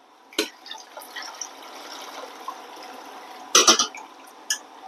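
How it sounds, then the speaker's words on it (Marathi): Water pouring and splashing as soaking liquid is drained off soaked sago in a home kitchen, with a brief splash near the start and a louder burst of pouring toward the end. "पूर्ण पाणी काढून घ्यायचं"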